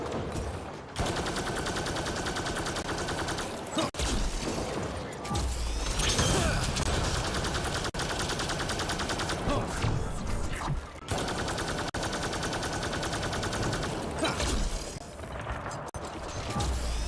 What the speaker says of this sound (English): The hell is shooting?